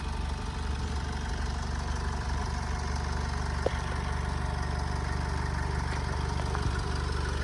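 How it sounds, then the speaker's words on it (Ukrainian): A 2010 Honda CR-V 2.2 diesel engine idles steadily with a low, even rumble and a faint mechanical clatter, no voices present. "Мотор працює ідеально, як швейцарські часи, без посторонніх звуків, шумів."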